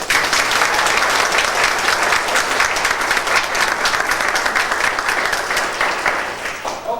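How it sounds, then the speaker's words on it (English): A theatre audience at a summer stage production claps in practice, a dense, even wash of applause lasting several seconds before tapering slightly at the end. "So remember, folks, watch the light and give us your heartiest applause."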